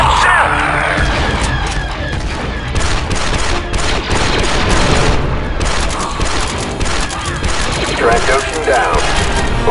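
Dense, continuous gunfire from Star Wars Republic Commando, with rattling automatic bursts and booms layered into a loud battle din, and voices shouting over it throughout.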